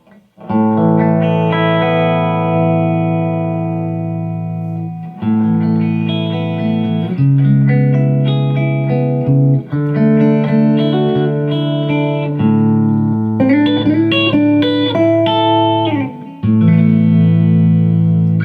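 Sustained electric guitar chords from a Collings 290 with P90 pickups through a Carr Super Bee 1x12 amplifier ring out with lush amplifier reverb, each chord blooming and decaying into the next, played alone.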